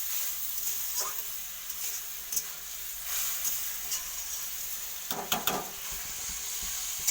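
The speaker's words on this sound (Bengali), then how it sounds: "ভালো করে কষতে থাকবো এর সাথে মশলাটাকে" Mutton masala fries and gets stirred in a pan, giving a steady close sizzle with occasional scraping stir sounds and a few louder clatters near the end, no voices.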